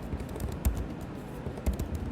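Keys tapped on a computer keyboard while filling in a college application form, a quick close run of soft clicks with a couple of heavier strokes.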